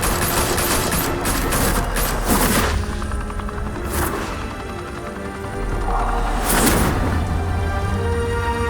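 Bursts of gunfire in the video game Batman: The Telltale Series, a rapid volley of shots followed by scattered sharp cracks and a few heavier impacts, loud and close with no talking.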